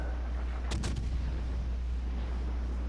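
Naval gunfire in the video game World of Warships Legends: a single booming salvo around the middle, short and punchy over a steady low rumble of engine and sea noise, with no talk.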